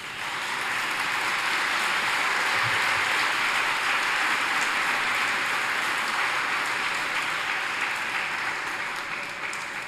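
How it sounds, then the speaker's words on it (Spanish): Audience applause at an evening Bible workshop on the texts of John, a dense, steady wash of clapping that holds loud and even for about ten seconds with no voices over it. "Démosle un fuerte aplauso."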